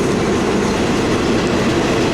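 A train passes at a station in Thailand, giving a continuous close rumble with rail clatter throughout and no voices.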